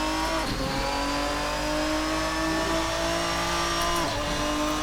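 Ferruccio 57 race car engine during a gentle warm-up lap in Assetto Corsa, a loud, sustained engine drone holding fairly steady pitch with brief dips around gear changes, no talk.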